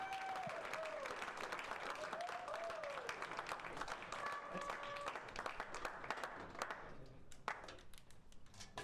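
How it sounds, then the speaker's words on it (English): Audience applause at an AI hackathon, a sustained patter of clapping from a crowd mixed with a few whoops and voices, fading and thinning toward the end. "can you guys give one more round of applause for Esteban?"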